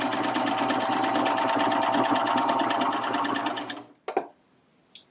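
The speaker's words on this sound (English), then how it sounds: "the serger is just guiding that cord along that groove automatically" A Baby Lock Vibrant serger stitches while automatically guiding a cord along its groove, giving a loud, fast, even mechanical chatter that runs steadily for several seconds, then stops, followed by a couple of brief clunks.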